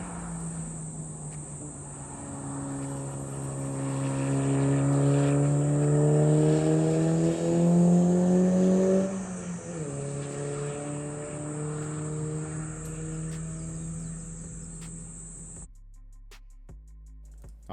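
A Toyota MR2 prototype test car drives past on a road in Japan, its engine note rising through the gears as it approaches and peaking loudly at about nine seconds, then fading as it moves away, with no talk.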